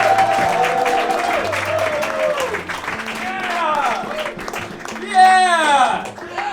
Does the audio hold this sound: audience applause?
yes